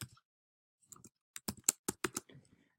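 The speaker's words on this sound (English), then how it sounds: "First of all, we're going to type in here COUNTIF." Close, crisp keystrokes on a computer keyboard while a formula is typed into an Excel spreadsheet: a few isolated taps, then a quick cluster of clicks in a quiet room.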